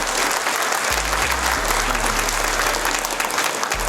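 An audience at a wellness company's launch seminar claps loudly and continuously for the whole stretch, a dense, sustained ovation that fills the room, with a faint low hum beneath it.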